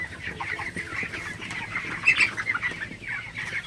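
Broiler chickens cluck and murmur steadily close by during hot weather, with a brief sharper squawk midway through; no one speaks.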